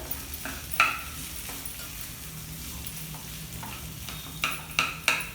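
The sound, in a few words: mixing crumbled potatoes for samosa filling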